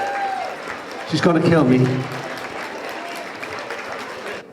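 Audience at a charity lunch applauding, a swell of clapping that builds and then holds steady for several seconds, with a voice speaking briefly over the start.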